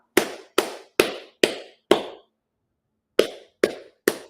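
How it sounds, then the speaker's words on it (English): One person claps by hand in a quiet room, five crisp, evenly spaced claps, a pause of about a second, then three more, each sharp and near with a short decay. "what I'm going to do, I want to clap."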